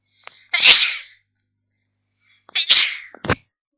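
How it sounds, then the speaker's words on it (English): A person sneezes twice during a livestream: a short sharp burst, a pause of nearly two seconds, then a second sneeze followed by a brief snort, loud and close in an otherwise silent room. "There's a sneeze coming up."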